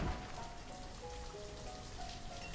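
Early spring rain in the city-building game Banished, a continuous even patter of drops on surfaces, close and moderately loud, with faint tonal game sounds beneath and no talking.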